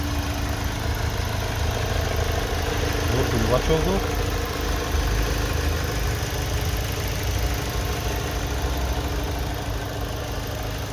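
A 2004 car with a 1.4-litre engine and automatic gearbox idles steadily with a low, even hum throughout, while someone talks over it close by.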